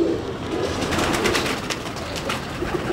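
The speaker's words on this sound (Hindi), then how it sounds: "ये भी मामदीन कबूतर है" A Mamdeen pigeon cooing in a loft, soft repeated low coos layered over a busy, continuous chorus of other birds nearby.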